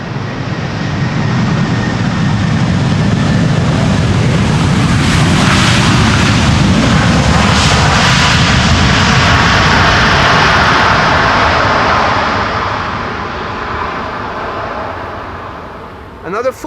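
An airliner landing on runway 18R at Amsterdam Schiphol with thrust reversers deployed: a loud, sustained broadband roar that swells to a peak midway, then slowly fades, with voices talking over it.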